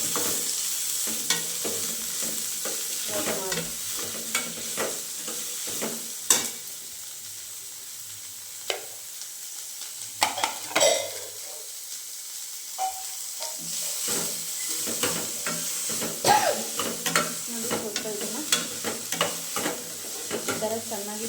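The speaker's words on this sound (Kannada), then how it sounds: "ಫ್ರೈ ಮಾಡಿ ಚೆನ್ನಾಗಿ" Onion and tomato fry in a pan for a dosa side dish, giving a steady close sizzle broken by frequent scraping stirs of a utensil against the pan, with no one talking.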